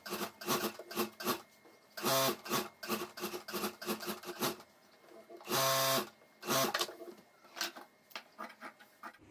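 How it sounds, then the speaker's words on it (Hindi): Sewing machine stitching around a pocket on school bag lining, in short repeated bursts of rapid mechanical rattling with a couple of longer runs, close and clear, no talking. "यहाँ मैं चारों तरफ सिलाई कर देता हूँ।"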